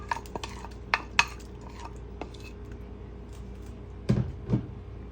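Rice and glutinous rice, washed, being stirred in a pot with a utensil: scattered scrapes and soft knocks against the pot, with two louder clatters near the end.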